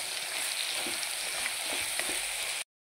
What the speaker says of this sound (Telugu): మంచిగా ఫ్రై అవ్వాలి, మంచిగా మగ్గాలండి.